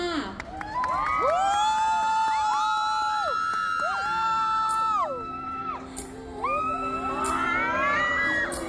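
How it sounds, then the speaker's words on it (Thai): A crowd at a fan event for a celebrity pair cheers loudly, with many high-pitched screams and whoops rising and falling in overlapping waves that continue throughout. "ขอเสียงปรบมือดังๆต้อนรับคุณมีนและคุณปิงค่ะ"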